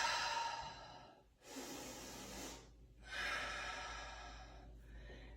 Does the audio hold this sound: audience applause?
no